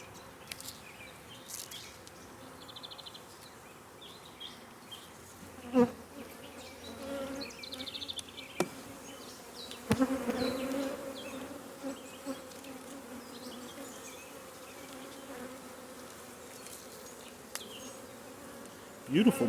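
A honey bee swarm buzzes in a dense, continuous drone during swarm collection and re-queening at a hive, with a few louder thumps and bumps over the humming.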